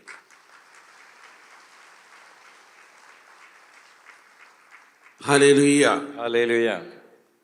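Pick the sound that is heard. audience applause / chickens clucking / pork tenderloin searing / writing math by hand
audience applause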